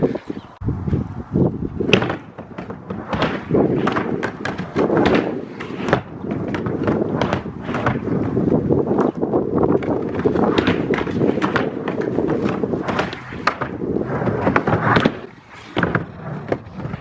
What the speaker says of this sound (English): let me skate it real quick so you can kind of get an idea of what it's doing